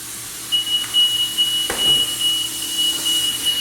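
A steady high-pitched electronic tone sounds from a car wash bay timer, beeping continuously and loudly while a BMX bike is pressure washed, with no talking.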